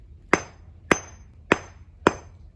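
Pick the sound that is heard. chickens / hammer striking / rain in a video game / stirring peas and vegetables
hammer striking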